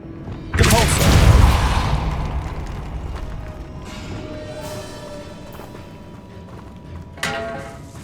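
Depulso force-push spell cast in the Hogwarts Legacy video game, inside a tomb: a sudden heavy booming thud with a rumbling low tail and creaking mechanism noises, decaying over several seconds, then a brief sharper accent near the end.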